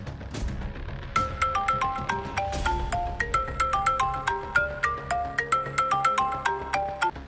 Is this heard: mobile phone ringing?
yes